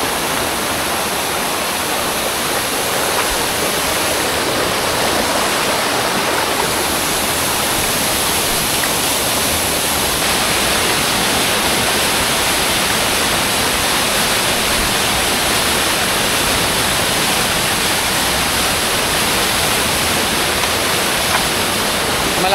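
A waterfall swollen by last night's heavy rain roars loud and unbroken, a dense rushing wash of water that holds steady for over twenty seconds without any voices.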